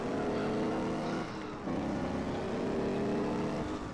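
A car engine revs steadily in a GTA MTA roleplay driving game, a continuous near drone with a brief dip in the middle before climbing again, no voices over it.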